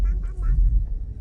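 A car's engine hums and rumbles low during a first driving lesson, rising gently under throttle, while a person speaks over it close by.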